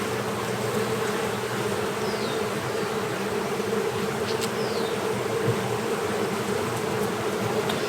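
Honey bees buzzing steadily at an open beehive during a hive inspection, a dense continuous drone with occasional single bees flying close past.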